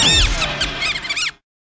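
A run of shrill, bending squeaks and squeals in quick succession, loud and close, probably a high cartoonish voice imitating the sound, ending abruptly in silence.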